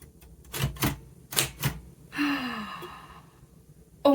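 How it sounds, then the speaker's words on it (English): Painted manual typewriter: a few crisp key strikes close by, followed by a sigh or breathy voiced sound and then one more sharp mechanical clack at the end. "Okay, I'm just gonna try to type hi."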